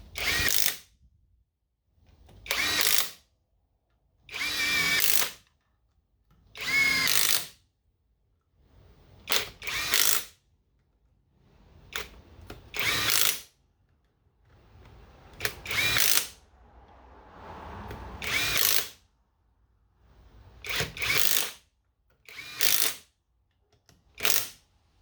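Power drill running down 10 mm bolts on a Seadoo 787 MAG engine cover, a dozen short whirring bursts spaced a second or two apart, close and loud with quiet gaps between.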